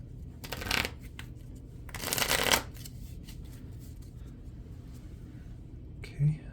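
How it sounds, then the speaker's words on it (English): A deck of cards for the Marvel Champions board game is shuffled in two quick riffling bursts, close and fairly loud against a quiet room, followed by a soft tap near the end. "I'm going to shuffle the encounter deck real quick"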